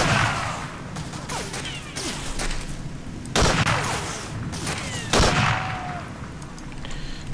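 An MG42 machine gun fires in a Medal of Honor Allied Assault: Spearhead battle in Berlin, Germany, with repeated loud bursts and heavy impacts standing out over ongoing combat noise, no talking.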